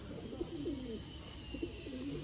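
Female Sialkoti breeder pigeons coo softly in low, rolling phrases, two faint bursts close together with steady background hiss and no talking.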